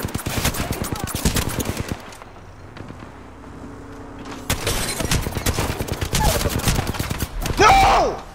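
Rapid bursts of video game gunfire crack loudly in dense volleys, pause briefly during a reload lull, then resume in heavy repeated fire close up.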